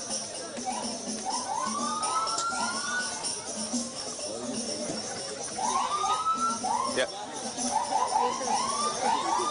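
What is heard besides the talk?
sirens of escort vehicles in motorcade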